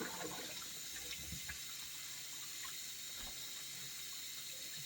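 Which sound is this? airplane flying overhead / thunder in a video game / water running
water running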